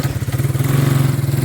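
A 250 QuadRunner ATV engine chugs steadily in a fast, even pulsing rhythm, close and loud, holding at a raised idle with no voices over it.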